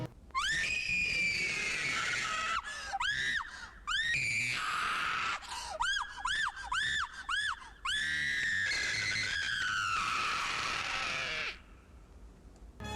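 A woman screams in a 1984 comedy horror movie trailer, a series of loud shrill wailing shrieks with several rapid rising-falling yelps in the middle, close and alone.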